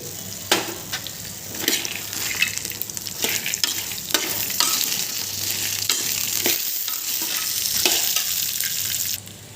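Peanuts, ginger and coconut pieces fry in a pan for peanut chutney, a steady close sizzle broken by scraping stirs and rattling knocks at irregular intervals.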